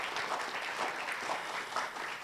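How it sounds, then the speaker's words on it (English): Continuous audience applause at a family overdose support fund announcement, steady, dense clapping from a mid-sized crowd throughout. "And I just want a round of applause for the fact that we are establishing this fund."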